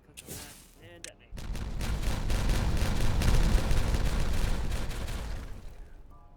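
Explosives detonating in the strategy game Timberborn set off a long, loud, rumbling roar of overlapping blasts after a few brief clicks, then fade away.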